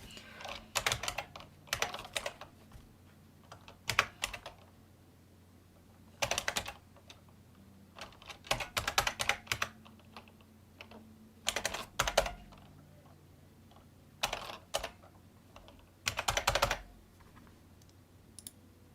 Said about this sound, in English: I have a physical product key of Windows 7 in my hands, and let's type it in.